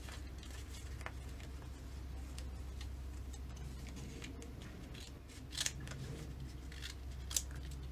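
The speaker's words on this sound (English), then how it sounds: "I'm just going to cut this all the way down" Scissors cut down the length of wrapping material for a game controller, with a steady run of small close snips and clicks and a couple of louder cuts near the end.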